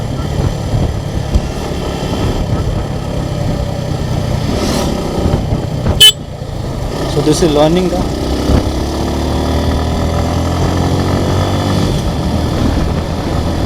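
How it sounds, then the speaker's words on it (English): A Suzuki Gixxer SF motorcycle engine runs steadily throughout, its pitch climbing as it accelerates, with someone talking over it. "So I'm not revving the bike too hard, but even then it is capable of going smoothly."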